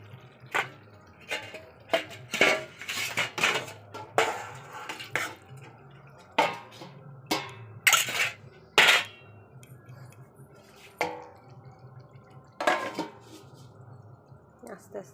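Meat is stirred and sautéed in a pot with a spoon clacking against the metal in irregular knocks and scrapes, some sharp, others softer, with sizzling underneath and a voice speaking now and then.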